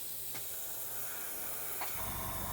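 Spray gun hissing out a gloss coat at a workbench near a booth, a steady broad airy hiss running throughout with a faint low hum beneath and a couple of brief pulses, close and fairly quiet.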